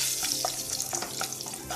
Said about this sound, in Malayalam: ഒരു രണ്ട് മൂന്ന് കറിവേപ്പില ഇട്ട് കൊടുത്തു.